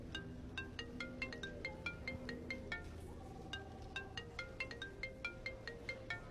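A phone plays its ringtone, a quiet, repeating pattern of bright chiming tones over a low background hum for several seconds, with no voices.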